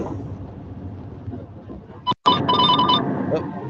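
Telephone ringing during a group voice call, an electronic ringtone with bright repeating tones starting partway through, over low background chatter and noise.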